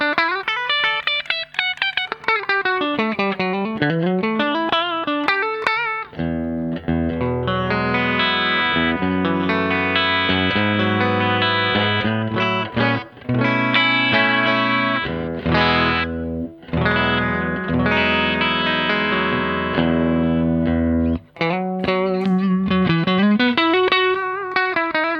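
Electric guitar played on the bridge pickup through a Fender Hot Rod Deluxe IV amp, a loud, continuous run of distorted chords and riffs with a chorus-like shimmer and no talking.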